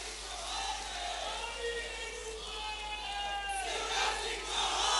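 Crowd of women at a state chief minister's sisters' convention rally, loud overlapping voices and shouts sustained throughout, forming a dense continuous roar.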